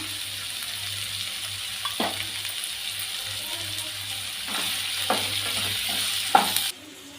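Curry leaves crackle and sizzle in hot oil for a Chettinad crab gravy, a steady close frying hiss with a few sharp spits and stirring clatters, then an abrupt cut at the end.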